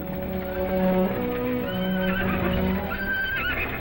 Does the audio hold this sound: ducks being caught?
no